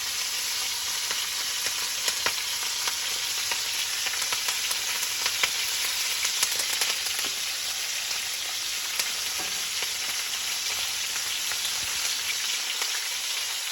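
Steak sizzling in a hot pan with butter and thyme, a dense, steady frying hiss with fine crackling spatter that holds even and loud throughout, with no talking.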